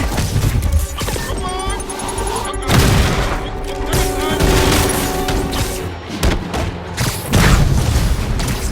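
Rapid bursts of gunfire and heavy booms from the video game Marvel's Spider-Man overlap in a dense, chaotic barrage, with crashes and explosions filling the whole stretch.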